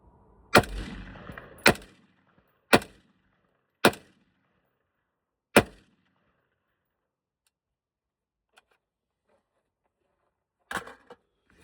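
A KS-3 gun fires five sharp, loud shots at uneven intervals in the first six seconds, then goes quiet before a final brief double report near the end, with no talking.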